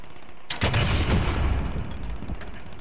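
A loud burst of rapid gunfire in a Call of Duty video game starts abruptly and rattles on for over a second, then fades into a quieter rumble with a couple of weaker follow-up shots.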